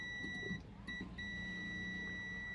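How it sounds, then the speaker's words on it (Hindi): A multimeter's continuity buzzer beeps while checking a microwave oven magnetron filament: a high tone that sounds, breaks briefly twice, then holds steady, close and fairly quiet over a low hum. "मल्टीमीटर को बजर पे ही रखेंगे"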